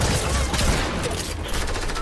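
Dense, loud bursts of rapid gunfire fill a first-person shooter match involving grenades, keeping up a continuous rattling barrage from start to end.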